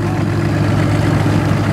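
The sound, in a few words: McCormick WD9 tractor engine idling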